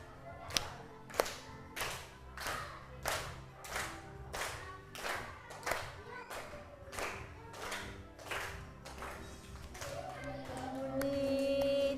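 Children in a classroom clap along in a steady beat, about fifteen crisp, evenly spaced claps that ring out fairly near, before the rhythm fades into humming tones and a rising murmur at the end.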